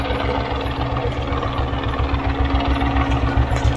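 A helicopter landing on a mountain helipad near Badrinath, a loud, close, steady rotor thump and engine drone with regular beating throughout, no talk.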